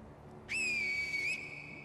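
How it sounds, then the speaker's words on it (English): A single sustained, steady whistle blown by the player character in Sekiro: Shadows Die Twice, clear and close, lasting under a second with a slight rise at the end, over quiet game ambience. "I whistle at him."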